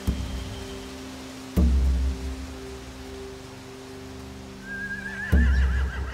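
Horses whinny on a farm near a boat landing, with a loud low thump at the start and near the end and a faint rising whinny toward the close over steady background hum.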